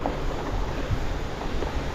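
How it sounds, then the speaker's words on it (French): A steady, dense roar of falling water at the Cascade Saint-Benoît, a 90-metre waterfall in the Savoie mountains, fills the air as a constant broadband rush with no voices over it. "Et me voici à la cascade Saint-Benoît"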